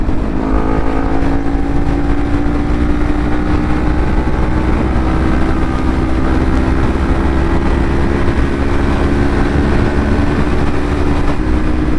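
A Yamaha R6 sportbike cruises at highway speed, its engine holding a steady, loud drone mixed with constant wind roar and no clear rev changes.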